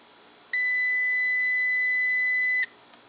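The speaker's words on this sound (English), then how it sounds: "Touching the two probes together will make a beep sound" A single steady electronic beep from a digital multimeter continuity test with its probes touching, high and clean, lasting about two seconds over faint background hiss.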